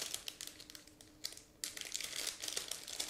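Crisp crinkling and rustling of a plastic bag holding the clear canopy sprue of an Eduard 1/48 L-29 Delfin model kit as it is opened, close and bursty with a short pause midway.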